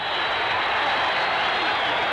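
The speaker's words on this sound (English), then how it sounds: "The crowd are loving it, loving the attack, the action, the sheer determination of Fourie" A boxing crowd cheers and applauds through a dense, steady wash of clapping and roaring voices that stays loud and continuous throughout.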